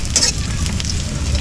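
Onions frying in a pan on a home stove give a steady, close sizzle with a faint crackle throughout.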